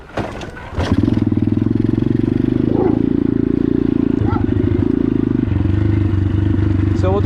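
An RPS X-Moto 125cc pit bike engine warms up, a close, loud, steady idle with a rapid, even putter that dips briefly near the middle and after about five seconds, over a few light clanks.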